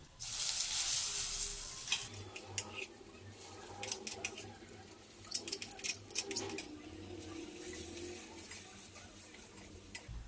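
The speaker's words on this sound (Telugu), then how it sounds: "గ్రీన్ పీస్ పేస్ట్ ఉంది కదా, అది వేసి వేయించాలి" Green pea paste sizzling in a hot pan with a burst of hiss at first, then scraping and stirring noises over a soft, steady frying sound.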